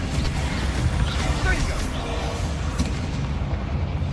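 Spell combat in Hogwarts Legacy: magical blasts and fire spells cast in quick succession, forming a dense, loud, continuous barrage of booms and crackling impacts with no clear gaps.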